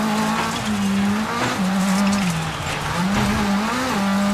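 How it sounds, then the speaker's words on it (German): A rally car in a WRC video game braking late and hard, a loud engine drone rising and falling in pitch with tire skid and squeal mixed through it, continuous for several seconds. "Super spät auf der Bremse."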